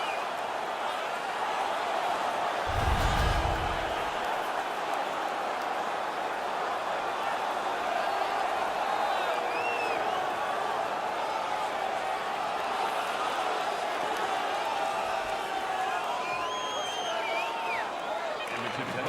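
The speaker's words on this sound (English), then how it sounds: "The home crowd is ecstatic. They're making all kinds of noise." A large home crowd in an NHL 19 hockey game, Edmonton Oilers versus Nashville Predators, roars steadily throughout, a dense wash of cheering and noise with voices mixed in, loud and continuous with no breaks.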